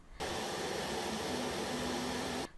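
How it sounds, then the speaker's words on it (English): A 3D printer's hot end heatsink fan and part cooling fan spin up during a Klipper self-test on a Creality Ender-3, giving a steady loud whooshing whir that starts abruptly, holds for about two seconds, then cuts off. "Now we can start the self-test, starting with the hot end heatsink fan and followed by the part cooling fan."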